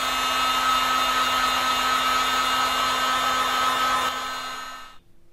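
A hot air blower heating a catamaran hardtop part to soften it, a steady loud whirring roar with a whine, holding constant before winding down and cutting off.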